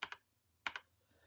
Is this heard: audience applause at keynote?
no